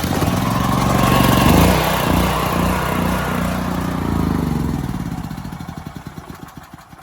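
A Firman 9400 dual fuel generator's small engine catches on choke and runs with a loud, rough, throbbing drone. It then sputters into slowing, uneven pulses near the end as it falters.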